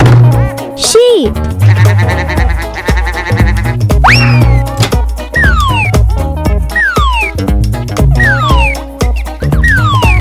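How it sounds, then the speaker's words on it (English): Sheep bleats mix with bouncy cartoon boing effects and a playful musical backing on a children's farm-animal track, with repeated wavering cries over the busy music. "sheep,"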